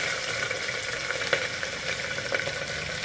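Sliced onions and green chillies sizzle and fry in a pan with a steady, close crackle and occasional faint stirring clicks, with no voices.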